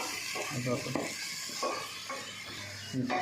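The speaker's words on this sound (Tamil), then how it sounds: "கொத்தமல்லி தூவி நல்லா மிக்ஸ் பண்ணிட்டா சூப்பரான மட்டன் வந்து ரெடி ஆகிடும்." Mutton thokku with coriander being stirred in a pan, close scraping and clinking strokes repeating every half second or so over a gentle sizzle, with no talking.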